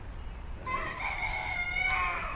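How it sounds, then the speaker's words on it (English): A rooster crows once, fairly distant and moderately loud outdoors, a drawn-out call over low steady background rumble with no talking. "There's my rooster."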